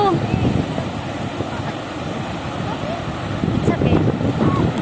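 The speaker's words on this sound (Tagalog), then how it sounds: "Wow, ang sarap ng hangin dito." Steady wind rushes at a provincial beach, buffeting the microphone with a constant rumbling roar alongside faint surf, with voices heard briefly.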